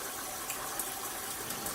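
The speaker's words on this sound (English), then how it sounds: "we're gonna rinse it off with cold water" Cold tap water gushes steadily over gluten-free pasta in a strainer, a faint, even hiss of running water with no talk.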